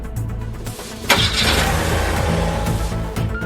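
A robber's car engine cranks and catches with a sharp burst, then settles into a steady, fairly loud running drone as the car pulls away, with a low idle rumble audible before the start.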